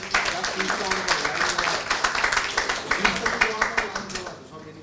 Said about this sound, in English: Can we have a round of applause for ma'am?